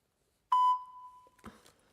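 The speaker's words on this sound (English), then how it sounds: "Ah, beeps in my ear." A single sharp electronic tone from a phone call, ringing out clearly and then fading, followed by a brief soft rustle in an otherwise quiet room.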